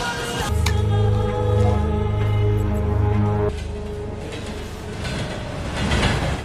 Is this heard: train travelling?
yes